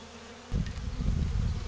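Honey bees from a Layens hive, with the queen among them going in and out, set up a dense, steady buzz that starts abruptly and keeps on close and fairly loud.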